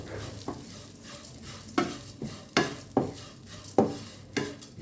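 Flattened rice (chira) fries in a pan with a soft sizzle, punctuated by regular scraping stir strokes of a spatula every half second or so, close and with no voices.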